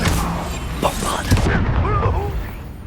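Bombarda spell blast in Hogwarts Legacy, a booming burst followed by crackling debris and magical sweeps, with a brief voice amid the action.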